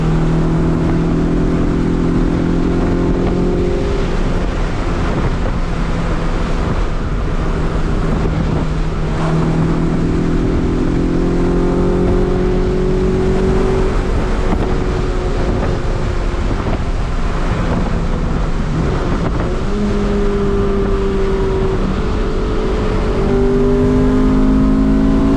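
A Honda Integra DA9 Dragon-spec engine pulls hard as VTEC engages, a loud, continuous engine note that climbs in pitch through the gears, with wind rushing over the microphone and no talking.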